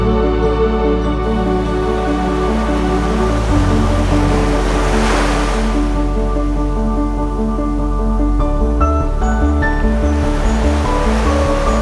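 Ocean surf rolling onto the beach of the Arabian Sea at sunset, a loud continuous wash of waves with a broad steady roar and a swelling crest midway, no voices.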